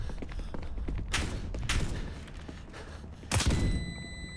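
Video game gunfire breaks out in a few sharp, loud bursts over a low rumbling background, with short gaps between the volleys.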